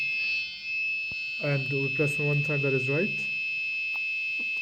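A home alarm buzzer, triggered together with LED lights, gives a steady high electronic tone under someone speaking close by.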